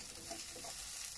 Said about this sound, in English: put the garlic and the ginger in